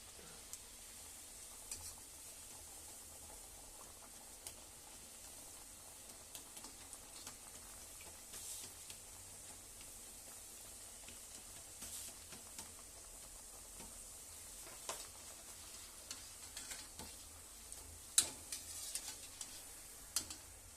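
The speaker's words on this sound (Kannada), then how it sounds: "ಒಂದೊಂದೇ ಬೇಗ ಎಣ್ಣೆಗೆ ಹಾಕ್ತೀವಿ ಸಣ್ಣ ಉರಿಯಲ್ಲೇ ಇದು ಮಾಡ್ಬೇಕ್ರಿ" Nippattu rice crackers frying in oil over a low flame give a faint, steady sizzle dotted with soft ticks and small pops, with a few sharper crackles near the end and no talking.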